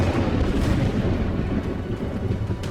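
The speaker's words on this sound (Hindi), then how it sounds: "तभी आकाश में बादल गरजने लगे और आकाश से तीव्र बिजली सांप पर हमला करने लगी।" A thunder and lightning sound effect for a fantasy audio drama gives a dense, loud rumble of storm thunder with a heavy low roar. It lasts a few seconds with no voices.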